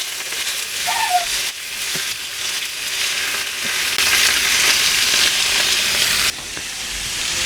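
Pork belly sears in hot oil in a pan, giving a steady, loud sizzling hiss with crackling spits throughout and a slight drop in intensity near the end.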